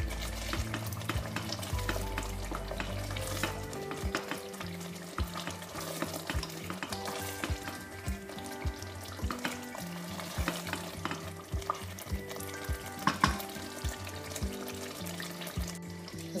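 Chopped onion sizzles in a pan for Tunisian lamb mermez, a dense continuous frying crackle with stirring clatter and watery bubbling mixed in, fairly close and steady throughout.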